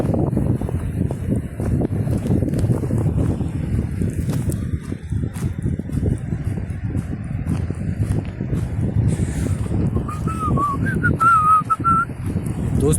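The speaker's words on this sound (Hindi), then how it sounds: "आजकल मुझे सीटी बजाने की आदत सी पड़ गई है" A man whistles a short tune outdoors on a forest trail in the hills, the whistle coming in brief melodic phrases near the end over constant wind buffeting and footsteps.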